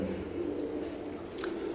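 Imported line teddy pigeons coo softly, a low, steady murmur of cooing up close, with a faint higher chirp near the end.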